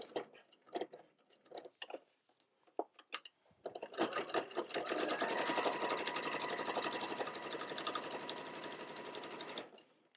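A sewing machine stitches around the corner of a pot holder, starting with a few scattered clicks and then running fast in a steady, dense whir before stopping, close and alone.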